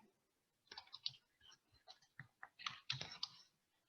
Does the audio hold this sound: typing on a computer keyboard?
yes